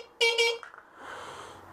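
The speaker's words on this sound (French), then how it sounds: "j'ai retrouvé et réparé son klaxon d'origine" Original horn of a green Citroën 2CV, two short, loud, nasal honks in quick succession, followed by a quieter mechanical hum.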